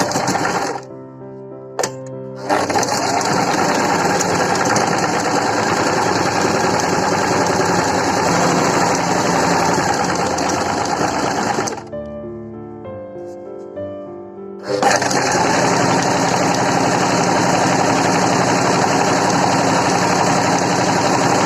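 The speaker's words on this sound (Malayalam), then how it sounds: "എപ്പോഴും സ്ലീവ് എൻഡിൽ നിന്ന് സ്റ്റിച്ച് ചെയ്ത് തുടങ്ങണം. സൂചി താഴ്ത്തി ലിവർ താഴ്ത്തി ഇവിടുന്ന് നമുക്ക് ലോക്കിട്ട് തുടങ്ങാം." A sewing machine runs at a steady, loud hum while stitching a sleeve onto a dress, with two brief pauses where the motor stops before resuming continuous stitching.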